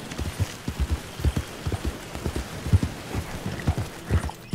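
A horse's hooves clip-clop at a walking pace through a night swamp in Red Dead Redemption 2, a steady rhythmic series of soft, close hoofbeats with a faint rain-like patter behind.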